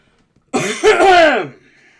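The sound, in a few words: cough during a live stream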